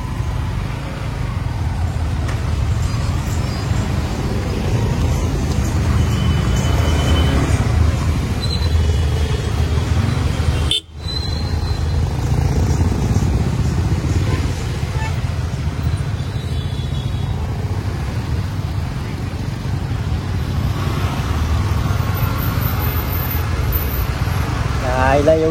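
Heavy weekend road traffic heard from a moving motorbike, with a constant low engine and wind rumble and a few brief, high car-horn beeps scattered through it, while a voice talks over the top.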